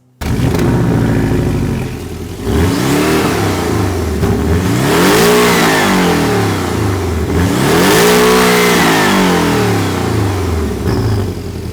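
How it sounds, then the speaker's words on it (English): A 2023 Porsche Boxster S engine revs hard twice, its exhaust roaring up and falling back between bursts, loud and close with a steady idle rumble underneath. "let's go ahead and give this exhaust a listen"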